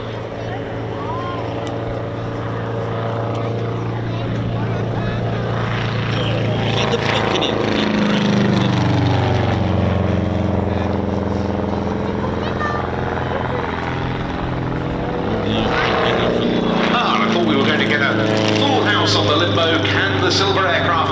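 A propeller aircraft flying during a formation display at the East Kirkby airshow, a loud continuous engine drone that swells and fades as it passes, with a commentator talking over it.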